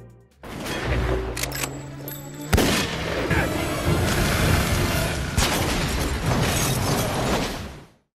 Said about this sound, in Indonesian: Tembakan yang dikeluarkan membuat mobil The Collector terbakar dan langsung menabrak mobil milik Frank.